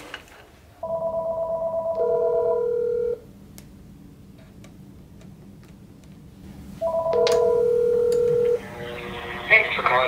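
Two sequences of telephone DTMF dialing tones sound through a voice-over-IP router. Each is a short run of steady, sustained beeps with quiet line noise between the two runs and a burst of hiss near the end.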